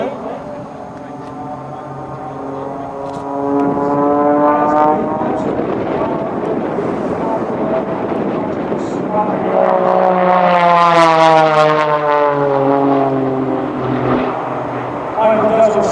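A propeller airplane flying aerobatic maneuvers, including a tumble and aileron rolls, drones steadily, with its engine note rising and falling in pitch as it swoops overhead. A commentator talks over the sound.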